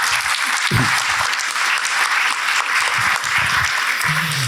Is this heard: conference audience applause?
yes